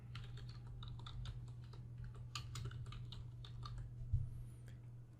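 A computer keyboard typed on quietly in a series of soft, rapid key clicks over a steady low electrical hum, with no talking.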